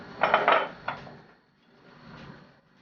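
A utensil scrapes and clinks against a pan while béchamel sauce is stirred, a few close clattering strokes followed by softer quiet scraping.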